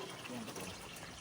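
Water runs steadily from the tap of a freshly cleaned tank, a continuous splashing flow heard up close at low level, with a voice talking over it.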